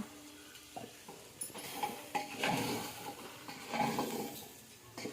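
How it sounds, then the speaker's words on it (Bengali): A spoon stirring turmeric into khichuri in a pressure cooker, with close scraping and clinking of metal against the pot in uneven strokes and soft sizzling beneath, no talking. "হলুদটা দিয়ে ভালো করে নেড়ে চেড়ে নেওয়া হচ্ছে"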